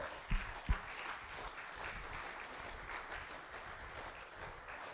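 A church congregation gives soft, distant applause to welcome a first-time visitor, opening with two louder claps before settling into a quiet, steady patter.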